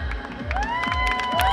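Crowd at a traditional festival pageant in Nuevo Galeana, Guerrero, applauding and cheering for a sponsor; claps and shouts rise together with whistles and raised voices across a short, lively burst.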